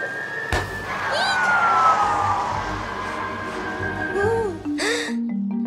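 A cartoon fire truck siren wails, rising and falling loudly over a busy animated scene in a children's show about trucks and a fire, with brief sound effects at the end.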